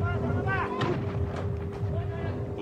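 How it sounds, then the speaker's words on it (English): Game-show cannons on Takeshi's Castle fire hard leather balls at tremendous speed, giving a couple of sharp booming shots while someone talks over them. "avoid being knocked off by these terribly accurate cannons"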